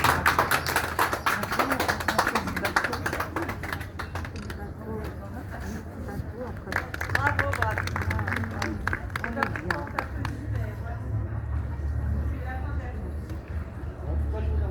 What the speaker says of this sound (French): N'hésitez pas à remercier le bateau, il y a l'applaudissement s'il vous plaît.